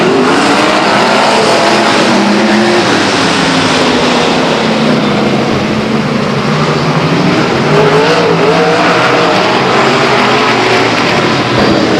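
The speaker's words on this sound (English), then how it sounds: "Renegade Sprints. Looking for a green this time around. And they're racing." Sprint cars race at Stockton 99 Speedway, their engines roaring loudly and continuously with rising and falling pitch as the pack passes, a dense, close wall of engine noise with no voices.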